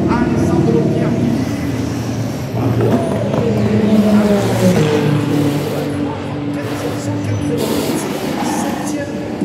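Ferrari race cars, numbers 50 and 51, roaring past during Hyperpole qualifying at the 2025 24 Hours of Le Mans, a loud, sustained engine drone under continuous trackside commentary.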